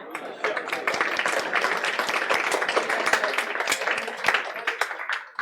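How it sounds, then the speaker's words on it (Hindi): A classroom of students applauds a classmate, with dense, steady clapping from many hands lasting several seconds alongside some talking. "क्या हम इस बच्चे के लिए ताली बजा सकते हैं?"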